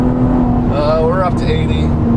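A Chevrolet Camaro V6 fitted with an MRT Version 1 axle-back exhaust roars at wide open throttle, a loud, close engine note that climbs steadily in pitch over a couple of seconds.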